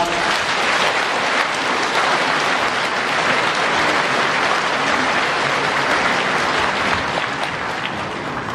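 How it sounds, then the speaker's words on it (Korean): Sustained applause from a large congregation at a Catholic priest and deacon ordination celebration in the Jeju diocese, a dense, steady wash of many hands clapping at even loudness throughout, with no talking over it. "다시 한 번 큰 축하의 박수 부탁드립니다"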